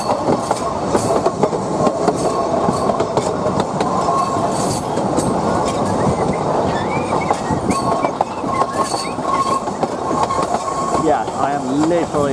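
Train carriages rumble and clatter loudly on the rails from inside, with intermittent wheel squeals rising toward the end and people talking over the steady roar.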